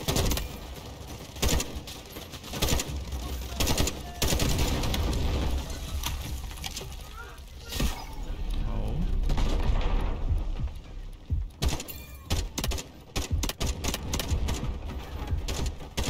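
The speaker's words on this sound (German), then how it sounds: "Also die Schüsse connecten ziemlich gut anscheinend." Rapid gunfire from the Delta Force shooter game, dense bursts of shots repeating loudly across the whole stretch with brief pauses near the end.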